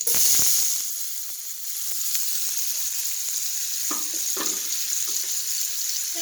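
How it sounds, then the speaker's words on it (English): Wild burdock root hits a hot skillet of lard with a loud initial sizzle that settles into a steady crackling hiss, broken by a few scraping stirs. "I'm just throwing them into a hot skillet with some fat."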